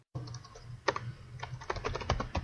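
Steady, quick typing of code on a computer keyboard, close and fairly loud, clustered keystrokes with brief pauses and no voices.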